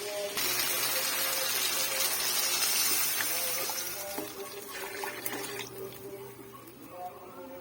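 Tamarind curry gravy mixed with ground coconut being poured into a cooking pot, a loud, steady liquid gush that tapers off over several seconds, with clinks near the end.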